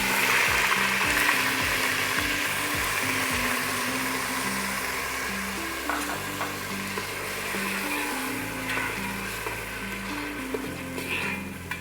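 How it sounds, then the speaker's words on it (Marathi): Onion puree fries in a pan with mustard seeds and cumin for South Indian hotel-style sambhar. A continuous sizzle runs under steady melodic background music, with no talking. "कांद्याची प्युरी लाल होईपर्यंत परतायची"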